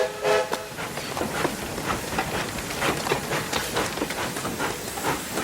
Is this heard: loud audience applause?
no